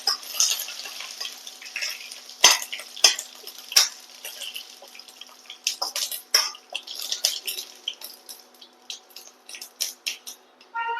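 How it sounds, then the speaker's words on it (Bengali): Neem leaves frying in a pan: crackling pops and sharp spatters in irregular bursts over a faint sizzle, with occasional stirring scrapes, close by and with no talking. "নিম পাতাটা একটু ভালো করে ভেজে নিই।"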